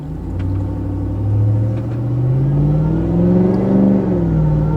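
Low, steady engine rumble from a RAM TRX pickup truck with an aftermarket exhaust, cruising, the exhaust note swelling and rising in pitch under load, no talking.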